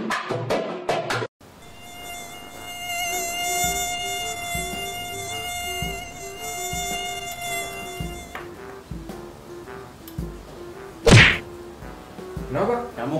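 Mosquito buzzing as a steady high-pitched whine with strong harmonics across most of the clip, fairly close, ending in a sharp slap and a thwack, in a comedy sketch setting.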